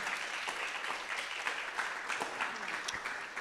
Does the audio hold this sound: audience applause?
yes